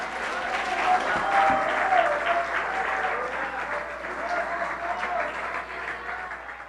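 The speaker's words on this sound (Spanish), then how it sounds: "Denle un aplauso al Señor que te está hablando en esta mañana." A church congregation applauds during a Spanish-language morning sermon. The clapping is sustained and dense and runs for several seconds, with voices calling out faintly beneath it.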